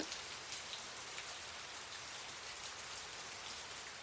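Steady rain pouring over a village in Laos with no electricity, a dense even hiss of drops hitting surfaces, continuous and moderately close, no voices.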